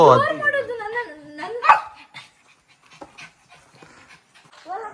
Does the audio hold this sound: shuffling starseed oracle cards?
no